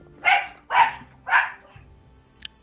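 A dog barks three times in the video game Moonlighter, each bark loud, close and evenly spaced, followed by a brief high chirp near the end.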